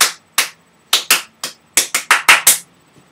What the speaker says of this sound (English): There's supposed to be some rhythmic clapping of some sort.